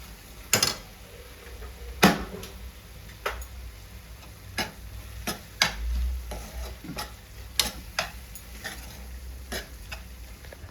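A spoon stirs spices into a mushroom curry in a pan, giving irregular sharp scrapes and taps over a soft sizzle, fairly close with no voice.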